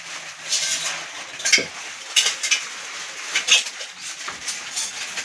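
Metal cookware clanks and scrapes in a few sharp knocks over a steady background hiss, close by, with no talking.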